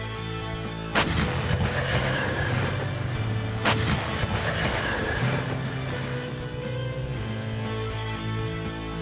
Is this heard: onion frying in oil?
no